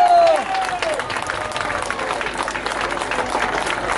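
An audience applauds at a Romanian outdoor festival, loud dense clapping that swells at the start and continues steadily, with a brief tonal sound and faint voices over the crowd.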